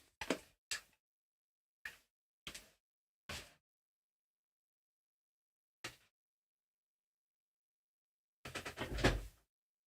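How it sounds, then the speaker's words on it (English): A room door in a home music studio is pushed shut: a handful of short, sharp knocks and thuds spaced out in quiet, then a louder, heavier bang near the end as it closes. "I'm going to shut the door."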